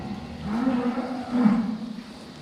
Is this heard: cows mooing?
yes